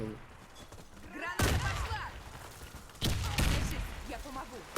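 Gunfire in the online shooter Warface comes in sharp, loud bursts of rapid shots, with a lull between them, as a player talks over the game.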